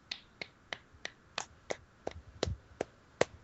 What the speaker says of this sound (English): Of course, we're the only ones clapping.